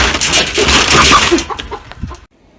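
A farmyard hen clucks loudly and close by, a dense burst of agitated clucking that breaks into a few separate clucks and then falls silent.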